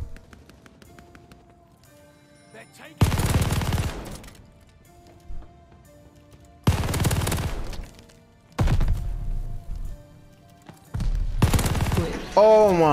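An MG42 machine gun fires in the video game Call of Duty Vanguard, four loud sustained bursts separated by quieter gaps, with faint game sounds between them.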